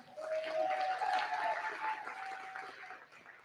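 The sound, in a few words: audience applause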